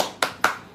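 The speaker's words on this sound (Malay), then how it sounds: "Satu tepukan gemuruh kepada Razi Jadid." Two sharp, close hand claps about a quarter second apart during a Malay-language political talk, each a crisp single smack that decays quickly, with no other voices.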